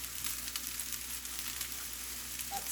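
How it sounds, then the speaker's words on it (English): Steady sizzling and frying crackle throughout as rice stir-fries in sesame oil, with faint stirring scrapes, continuous and fairly quiet with no voices. "I'm going to start just going to town and just kind of stir frying this rice"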